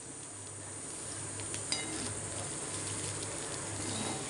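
Rice with moong sprouts, salt and ghee being stirred in a pan, a soft continuous sizzle with faint scraping and a light utensil clink, quiet and without talk.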